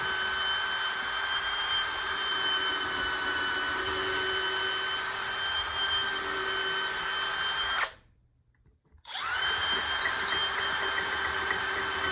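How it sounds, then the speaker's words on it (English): A vacuum cleaner runs during cleanup after repairing a four-wheel moving dolly, a loud steady whining drone that cuts out for about a second and then starts up again at the same level. "And I own a vacuum cleaner, so cleanup will be a clean sweep."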